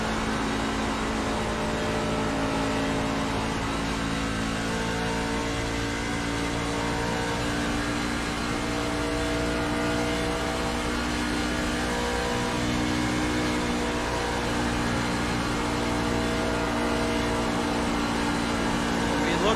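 Steady engine drone from the cockpit of a race truck in a racing video game at Kentucky, a constant loud whirring hum with strong low harmonics that holds throughout without letup.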